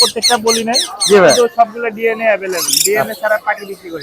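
Red lory parrots at the Mirpur bird market give loud, close, harsh squawks and chattering calls in quick bursts, with a shrill peak near the end.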